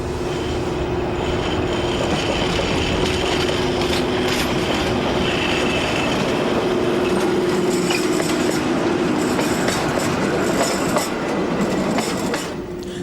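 A train stands at a sunlit junction station in the Algarve, Portugal, beneath an overall roof, as carriages from the western line are coupled on. A steady, loud rumble with wheel squeal and clanking fills the scene throughout, with no voices.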